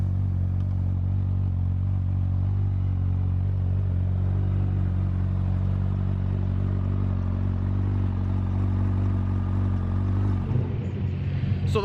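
A formula race car engine runs at a steady idle in the paddock of a hillclimb, giving a continuous, close, deep rumbling drone with even harmonics that shifts and fades near the end.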